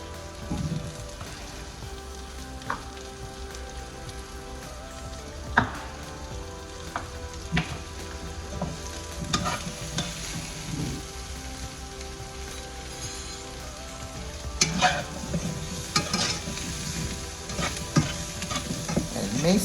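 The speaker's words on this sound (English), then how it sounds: "putting all the squash in" Large cubes of squash sizzle and crackle in a hot pan for a chickpea curry, a steady frying hiss broken by louder scraping stirs, with no voices.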